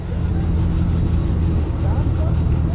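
Case 150 hp steam traction engine running at about 200 RPM against a prony brake, giving a steady, loud low rumble that holds throughout with a faint voice in the background.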